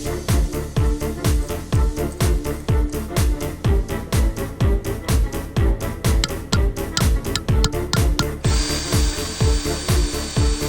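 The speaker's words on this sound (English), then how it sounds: "even lent me a drill and files for the repair" A power drill whirs in repeated short bursts, each rising and cutting off in a steady rhythm, close and loud, during a canoe repair, with a brief higher whine near the end.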